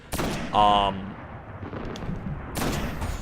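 Sniper rifle fire in the video game Destiny: two loud, booming shots about two seconds apart, separated by a brief tonal game sound and a low rumbling tail.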